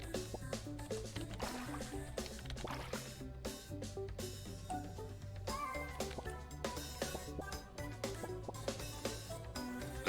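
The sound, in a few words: cat meowing in video game Turnip Boy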